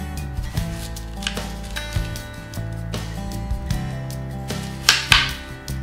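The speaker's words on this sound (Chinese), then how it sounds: "将雪梨切成小块" A knife chops a peeled, cored Sydney pear into small pieces, giving several sharp taps on the board over a steady background of tonal music.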